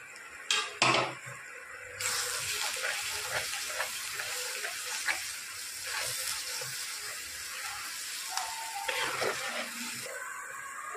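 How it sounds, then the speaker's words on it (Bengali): Ground turmeric, chili, cumin, coriander and Kashmiri chili powder fry in a pan with a steady sizzle, broken by splashes as a little water is added and by a few utensil clinks. "এবার আমি সব মশলাগুলো ভালো করে কষিয়ে নেব"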